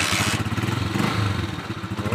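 A motorcycle engine idles close by after a DIY oil change, a loud, steady, rapidly pulsing mechanical chug that runs throughout, with no talking.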